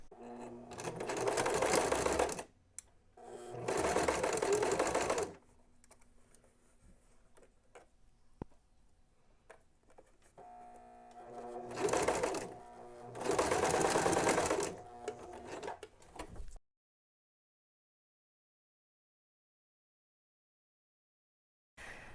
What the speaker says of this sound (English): I have a very inexpensive, very noisy sewing machine